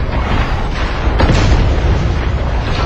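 A loud, deep explosion blasts something open in the video game SpyHunter Nowhere To Run, with a sharp boom partway through over a heavy rumbling background.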